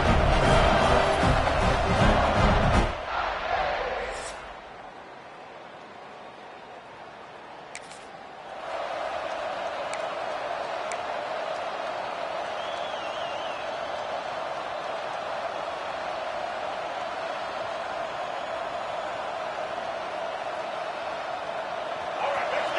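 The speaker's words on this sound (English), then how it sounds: "It's early, but this crowd is fired up. Listen to this noise here." A stadium crowd roars loudly in an EA Sports college football video game, the burst of cheering lasting a few seconds before settling into a steady, distant background din.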